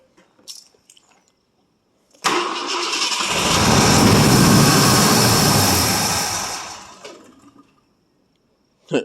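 A 1967 Ford LTD two-door with a 390 FE V8 cold-starting after twelve years of sitting: a short crank, then the engine catches and roars loudly for several seconds before dying away, close and without talk.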